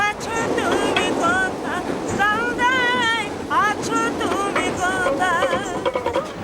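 A train runs on railway tracks in India, a continuous rumbling roar with rising and falling high-pitched wheel squeals throughout, fairly loud and close.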